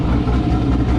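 Deep, steady rumble of a cammed C5 Corvette with a 6-speed manual driving in the rain, a low lopey idle-like drone with a slight pulse, close and fairly loud.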